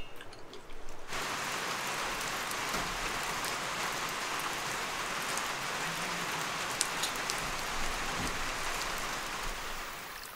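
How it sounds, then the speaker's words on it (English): Steady rain falls across the Saguenay Fjord, a dense, even patter on surfaces that continues unbroken, with no voices present. "And it's been raining all night. Everything's wet. Oh, and it's still raining this morning."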